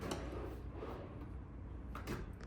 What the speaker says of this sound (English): These are gonna be soft close drawers and cabinets.